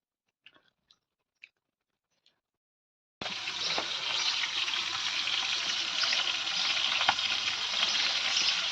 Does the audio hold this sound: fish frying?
yes